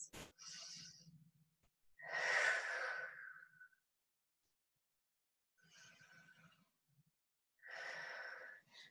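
Slow, deep breaths taken in a yoga child's pose with the forehead resting on the floor, four long audible inhale and exhale sounds separated by quiet gaps, close and soft.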